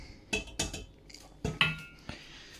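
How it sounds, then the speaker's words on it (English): Metal colander and pans clanking in a home kitchen as boiled potatoes for cottage pie are tipped in, giving several sharp, close clinks and knocks spread over a couple of seconds. "I am going to sieve out the potato into this colander, like so"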